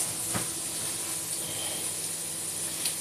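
Meatballs cook in very hot oil with a steady, close sizzle and hiss that holds constant throughout, broken by a couple of faint pops.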